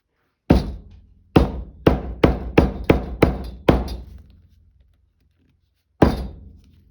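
Hammer blows land on a padded surface, a sharp solid thud followed by a fast run of six evenly spaced strikes, then one final thump after a pause; loud, close and with no talking.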